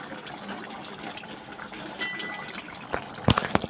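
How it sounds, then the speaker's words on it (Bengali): A little water poured into a simmering pan of katla fish curry with potatoes, a steady soft trickle followed by a few sharp clinks and knocks near the end. "এখানে দেখো অল্প সামান্য জল দিয়ে দেব"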